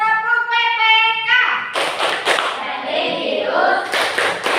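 A classroom of students performs a rhythmic patterned group clap, with a run of sharp, close hand claps that follow a sustained chanted voice.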